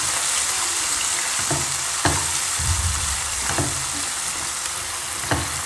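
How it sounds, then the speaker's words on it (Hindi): Crushed garlic and ginger sizzle steadily in hot oil for a Lucknowi yakhni pulao, a loud continuous frying hiss broken by a few sharp stirring scrapes and clinks, with no voices. "अब हम यहाँ पे ये लहसुन और अदरक डाल देंगे, ये मैंने 3 टेबल स्पून लिया है, कूटा हुआ है।"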